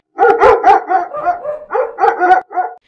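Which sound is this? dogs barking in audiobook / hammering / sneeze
dogs barking in audiobook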